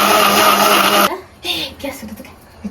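A kitchen mixer grinder runs loud and steady for about a second, then cuts off abruptly, leaving quiet room sounds and brief voices.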